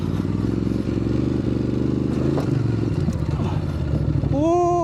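A Ducati DesertX motorcycle rides off-road at an adventure camp, its engine droning steadily and close with rattling and scraping over rough ground, rising in pitch as it revs near the end, with a voice speaking over it.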